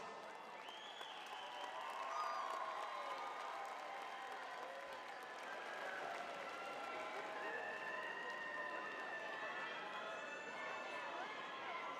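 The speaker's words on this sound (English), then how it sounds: "Round of applause." An audience at a 2024 high school graduation ceremony gives graduates long, sustained applause that stays dense and even throughout, with faint voices mixed in.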